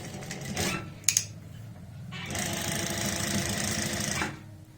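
Sewing machine stitching an angrakha kurti, in two runs: a shorter burst, then a steady whirring run of about two seconds with a rapid needle rhythm, close and moderately loud, with brief clicks between runs.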